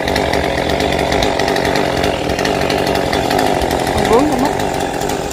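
A chainsaw cuts through an old mango tree outdoors in windy weather, its engine droning loud and continuous from start to finish while a person speaks briefly over the noise.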